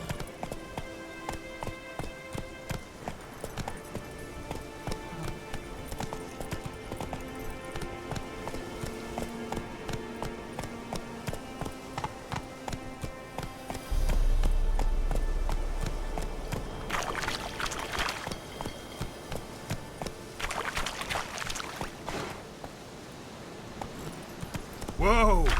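In The Witcher 3: Wild Hunt, a horse gallops with steady, rhythmic hoofbeats on the ground, moderately near, with a brief shouted voice and background game sounds partway through.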